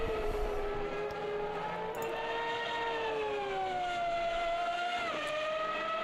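Engines of 1995 Formula 1 cars in a racing video game, with two Ferraris on track at Catalunya. A loud, steady high-pitched whine with smoothly rising and falling pitch runs throughout, with no talk.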